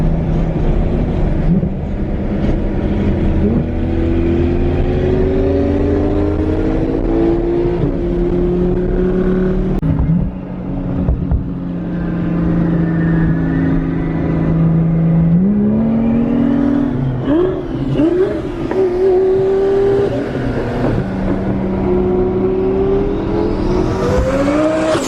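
A twin-turbo Lamborghini Gallardo pulls hard, its engine note climbing steadily through the revs, dropping briefly at a shift, then rising again in a loud, sustained roar heard from inside the car.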